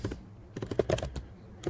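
Close, fairly loud keystrokes on a computer keyboard, quick irregular taps in short runs with brief pauses.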